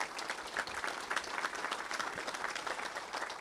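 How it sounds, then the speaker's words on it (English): An audience at a Little Rock Touchdown Club press event gives a brief round of applause for the sponsors, a steady wash of clapping from many hands. "Let's give all of our sponsors a great round of applause"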